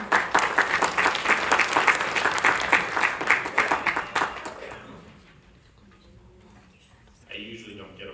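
An audience at a celebration of life applauds loudly and steadily for about four seconds, the clapping then fading out, followed by a person beginning to talk.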